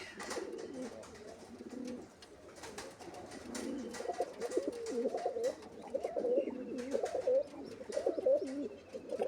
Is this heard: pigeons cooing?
yes